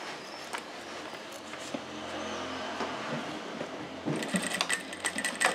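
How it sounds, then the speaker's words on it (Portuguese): A sewing machine stitches along the edge of a bag's pleated accordion gusset, giving a steady, moderately loud mechanical whir with faint clicks. The sound grows busier and more rattly near the end, and nobody speaks. "É uma costura na beiradinha, só pra prender mesmo a sanfoninha da bolsa."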